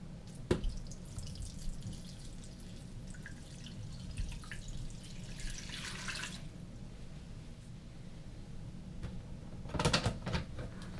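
Water pours steadily into a Nutri Ninja blender jar over raw kale and carrots, a soft continuous trickle with a few brief splashy bursts, fairly quiet and close, with no talking.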